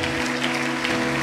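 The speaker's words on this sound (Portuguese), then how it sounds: "Aplauda Ele, porque Ele é bom." Congregation applauding in a church during a worship sermon, a steady wash of clapping held at even loudness under a low sustained musical drone, no voice on top.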